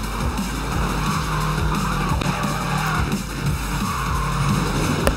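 Race car engines in the video game Need for Speed: Most Wanted (2012) roar steadily with tires squealing and skidding, a dense continuous mix of motor drone and screeching throughout.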